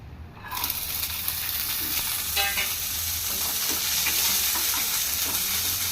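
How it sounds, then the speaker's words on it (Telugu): Sweet corn fries in a pan with cloves and a bay leaf, giving a steady, close sizzling hiss with light stirring scrapes throughout and no talking. "ఒక స్వీట్ కార్న్ని ఒక 5 మినిట్స్ వేయించుకుందాం"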